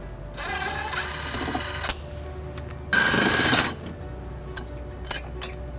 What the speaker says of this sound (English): There's 2 bolts that hold it into place. Our small one, we're going to use a 10 millimeter socket